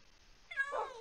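A cat meows inside a Minecraft roleplay game, one drawn-out, fairly close meow rising then falling at moderate level, with no talk over it.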